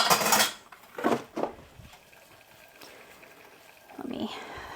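Clinking of a spoon against a small metal cooking pot comes in a few quick bursts at the start, then quieter scraping and a soft rustle near the end, with no talk.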